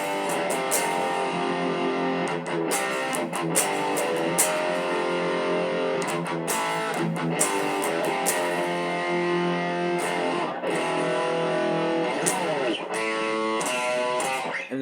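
Electric guitar plays the pre-chorus of a song in a steady, continuous distorted passage with repeated strummed accents and a busier run of quick notes near the end, with no talk over it.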